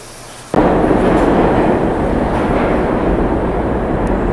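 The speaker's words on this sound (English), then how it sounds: "Oh, I'm waiting for the D train, by the way." A New York City subway D train arriving in the station: a loud, steady roar of wheels and carriages begins abruptly after a short quiet moment and keeps rumbling close by without letup.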